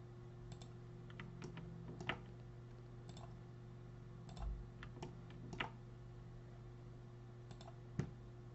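Sparse mouse clicks at an irregular pace while modeling in Maya, close and faint over a steady low electrical hum, with no talking.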